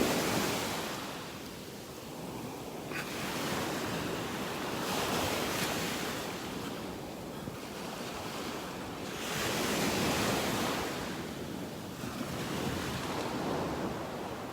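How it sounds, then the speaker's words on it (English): Ocean waves breaking on a beach in North Naples, Florida, a broad surging roar that swells and recedes every few seconds with wind across the microphone, no talk. "These waves that we've been watching over the past week have really washed away a lot of beach here"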